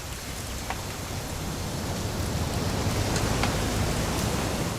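Rain in the video game What Remains of Edith Finch, a steady, dense hiss that stays even and fairly loud throughout, with no voices.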